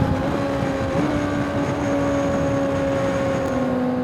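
A 2025 Honda CBR600RR motorcycle engine holds a steady tone while riding, with constant wind rush over it and no clear revving changes.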